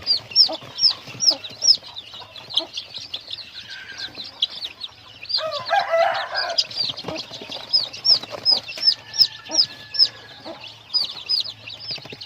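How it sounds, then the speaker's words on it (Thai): Newborn chicks in a nursery pen peep in rapid, repeated high chirps, close and loud, with a brief burst of louder clucking and scuffling midway; no talk. "คอกนุบาลไก่แรกเกิดครับผม"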